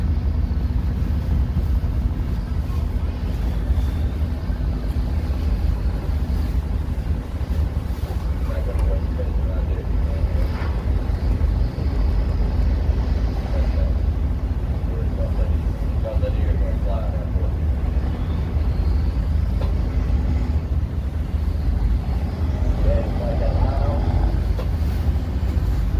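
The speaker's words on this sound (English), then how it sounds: "It's the hum of those engines will do it to you." Steady low hum of boat engines, a constant loud drone with wind noise over it, unbroken for the whole stretch, with faint voices briefly rising above it a few times.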